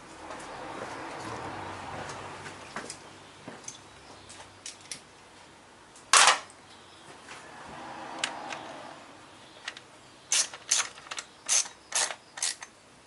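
Ratchet tightening 10mm ignition coil bolts on a Nissan VQ35 engine in a 2003 Infiniti G35/350Z: a sharp clack near the middle, then a quick burst of several close ratcheting clicks near the end over quiet background.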